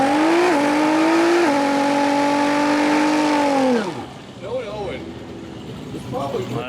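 A drag race car at a summer racing event roars through a loud, sustained high-RPM burnout that rises and then cuts off, followed by a quieter idle and crowd noise.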